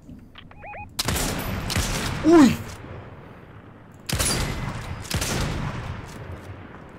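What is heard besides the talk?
gunfire in the video game Fortnite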